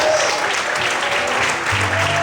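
A church congregation claps and applauds steadily during a worship service, a dense, sustained wash of many hands filling the whole stretch, with a faint voice underneath.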